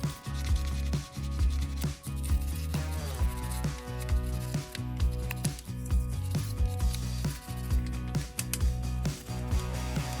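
A small brush scrubbing the narrow gaps of a car wheel, producing repeated rough rubbing strokes in an uneven rhythm, close and fairly loud with no talking.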